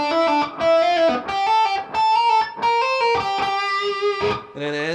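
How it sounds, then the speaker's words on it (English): On an electric guitar, a bluesy Dorian lick plays as a string of clean, quick notes built from hammer-ons and pull-offs. Each note rings clearly in a steady phrase, with no talking. "we're going to use a hammer-on and a pull-off for each one"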